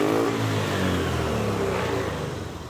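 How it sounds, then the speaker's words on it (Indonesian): A motorcycle engine, repaired after a crankshaft position sensor error and wiring short that made it sputter, revs smoothly and steadily at close range, its tone holding even before easing off slightly toward the end. "Dan motor pun enak, tidak berebet-berebet lagi."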